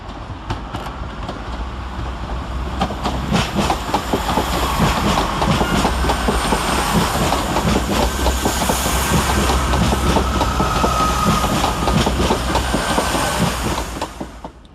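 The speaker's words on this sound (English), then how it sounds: "two departures, 165001 and 165032, with the 1727 Chiltern Railway service to Aylesbury" Two Chiltern Railways class 165 diesel units, 165001 and 165032, pull out of London Marylebone station on a service to Aylesbury, engines swelling then steadying with rhythmic wheel clatter that fades near the end.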